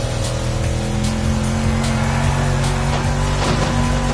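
A car in The Crew drives fast, its engine revving loudly and continuously with a hint of tire squeal, close up and with no speech over it.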